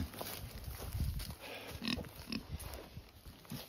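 Pigs on a farm grunt in short, irregular bursts at close range over a busy pen background, with a steady high electronic whine throughout.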